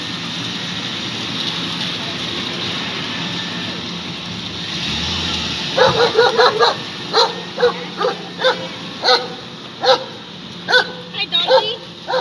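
Dog barking during a police traffic stop, a run of sharp repeated barks starting partway through and continuing at a steady rhythm over background rumble.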